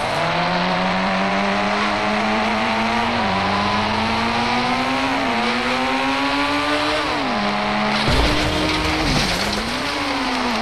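A vehicle in the Indian Bikes Driving 3D game drives with a loud continuous engine drone whose pitch rises and falls through gear shifts, ending with a rougher burst, no talking.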